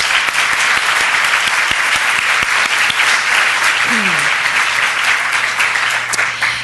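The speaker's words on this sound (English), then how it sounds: "Let's give them a round of applause." Audience applause fills a luncheon hall for event sponsors, a dense, steady crowd clapping held at even loudness throughout.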